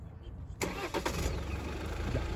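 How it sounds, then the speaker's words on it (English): A diesel Alfa Romeo Giulia engine fires up nearby with a sharp start after a brief quiet lead-in, then settles into a steady, close idle hum with a faint high whine. "let's start the car actually"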